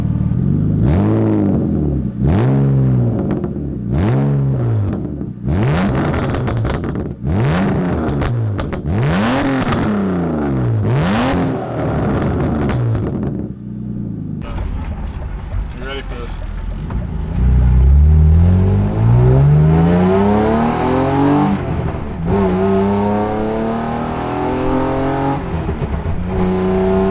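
A BMW E36 with a straight-piped exhaust and RK-Tunes revs repeatedly, each throttle blip rising and falling sharply, then it pulls away with a long, loud accelerating drone and shifting engine pitch.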